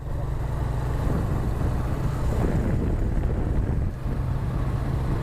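A motorcycle engine, suspected of a worn timing chain, runs steadily up close with a continuous low mechanical drone and rattle, loud and unbroken for the whole stretch, with no talking.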